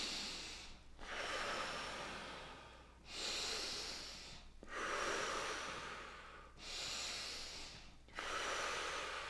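Slow, deep breaths in and out through the nose during a yoga-style breathing exercise, four long airy cycles that are close, soft and evenly paced, with no speech.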